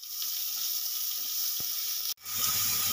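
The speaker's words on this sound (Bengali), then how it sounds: "ফোড়নে দিয়ে দিচ্ছি অল্প কালো জিরে।" Black cumin and onion paste hit hot mustard oil, giving a continuous close sizzling hiss that drops out for a moment and then surges back louder, with no talking.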